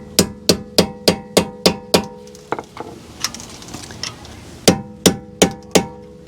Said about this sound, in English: Just using this little mini pry bar from Lyle.